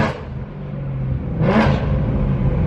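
A BMW E92 M3 fitted with a Valvemaster full catback exhaust revs up, its loud, raspy engine note rising in a single swelling blip over a steady rumbling idle.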